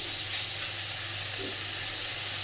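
Water lily stems frying in oil in a pan, a steady close sizzle with a soft hiss throughout and no talk.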